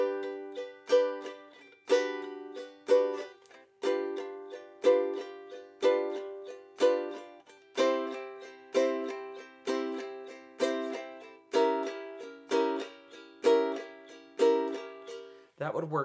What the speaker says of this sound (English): The other thing you could try is you could try a triplet strum